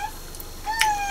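A cat gives a short, faint meow, then a clearer, rising meow close by, over a steady background hum.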